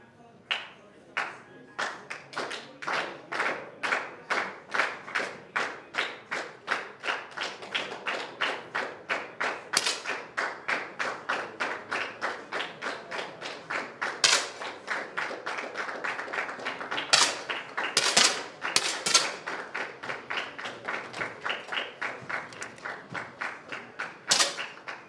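Pistol shots ring out through a youth European league team bronze match between Poland and Russia. Dozens of sharp, fairly close cracks come in a steady, overlapping stream from several shooters over about twenty-five seconds.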